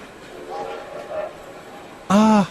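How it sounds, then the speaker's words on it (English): A train near a railway station sounds a short, loud horn blast at the end, after faint rumbling tones, as part of a children's story reading. "Soon he sees some red and green lights and the noise of a train."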